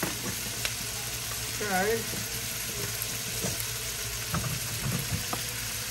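Shrimp frying in a pan for fried rice give a steady sizzle throughout, with occasional stirring clatter and a brief voice speaking over the cooking.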